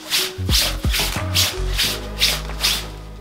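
Nylon jogger pants swishing loudly as the wearer moves, giving repeated rhythmic rustling rubs close up, with no talking.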